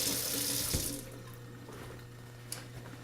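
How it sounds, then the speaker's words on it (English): Water runs steadily from a tap into a sink during handwashing, a close, constant splashing rush that drops slightly in level after the first second, with a brief small clink near the end. "The second thing I'm going to do is wash my hands."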